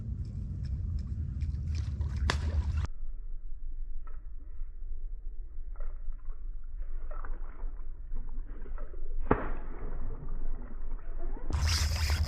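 A snook strikes a topwater lure on the water surface from a fishing boat, giving a sudden broadband splash that cuts through the steady outdoor background, with a few other bursts of water noise around it.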